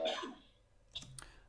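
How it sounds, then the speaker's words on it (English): A single quiet cough, or a throat clear, comes in a podcast recording, a short faint burst followed by a couple of small rasping catches, close to the microphone. "I suspect this is the cough."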